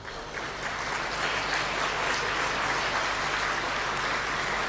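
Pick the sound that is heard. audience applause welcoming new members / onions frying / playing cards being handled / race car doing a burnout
audience applause welcoming new members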